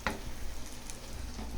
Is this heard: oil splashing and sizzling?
yes